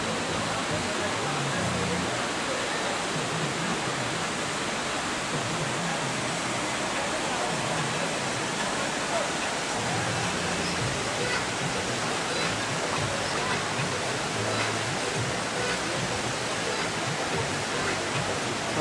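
A mountain waterfall on the Amarnath Yatra route from Baltal, with snow frozen above it, roars as a steady, dense rush of water throughout; faint voices occasionally sit beneath the noise.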